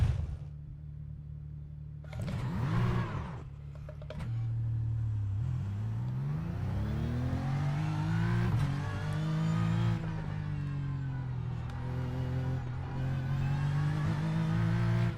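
A race car on a Detroit circuit in a racing video game revs and accelerates with rising and falling engine pitch through the gears. The sound is steady, close and continuous, and there is no talk.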